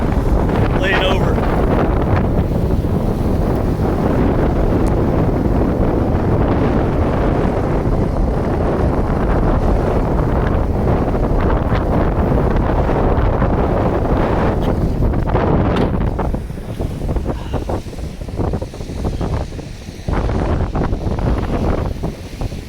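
Strong gusty wind roars across the microphone outdoors on a farm, loud and continuous for most of the stretch before easing slightly near the end.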